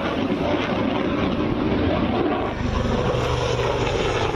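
An HAL Tejas fighter jet roars with a steady, dense broadband rush, loud and continuous throughout, mixed with wind noise and no talking.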